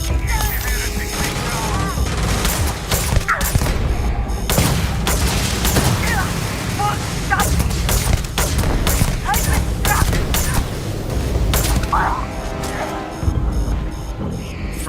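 Weapon fire in the space RPG Starfield: dense, continuous shooting with heavy booms and crashes, layered over a steady hum for the whole stretch, loud and close.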